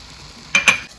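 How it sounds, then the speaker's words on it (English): Tomato paste, coconut milk and tandoori masala sauce stirred in a pan, two quick close scrapes of a spoon over a faint steady simmer. "Mix it well and let it cook for around 5 minutes."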